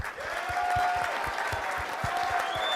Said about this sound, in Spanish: Por eso yo les pido un aplauso para el gran Saúl Canelo Álvarez y para Jaime Munguía.